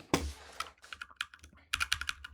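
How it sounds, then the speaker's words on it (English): Quick bursts of computer keyboard typing, a loud first keystroke followed by irregular clusters of clicks with short pauses, close by and alone. "So if my keyboard would kindly work"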